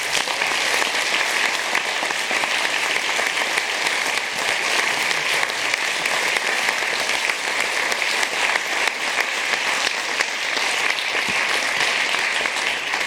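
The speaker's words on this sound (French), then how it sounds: "Merci pour eux, les applaudir." Sustained, dense applause from a large audience at a film festival awards ceremony, loud and even from start to finish with no talking over it.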